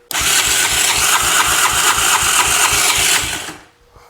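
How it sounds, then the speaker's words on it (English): A 2004 Honda Recon ES quad engine cranking over with the throttle wide open during a compression test, a loud, close, rapid rhythmic chugging of the starter for about three seconds before it stops. "let's just check this compression with the throttle fully open"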